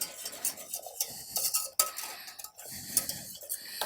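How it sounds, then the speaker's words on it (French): A silicone spatula scrapes a chocolate bavarois mixture around the inside of a saucepan in repeated strokes, close up and fairly quiet, with light clinks against the metal. "je viens bien corner avec ma maryse mon mélange"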